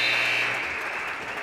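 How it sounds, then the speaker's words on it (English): A crowd at a high school girls basketball semifinal applauds after the home team's win, with a broad wash of clapping under a sustained buzzer tone that fades early. "take an applause from the crowd"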